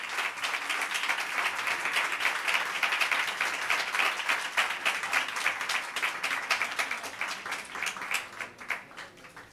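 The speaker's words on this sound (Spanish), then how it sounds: "Guardar energías de aplausos para después" A concert audience applauds steadily, dense clapping filling the room for nearly ten seconds before thinning toward the end, with no talk over it.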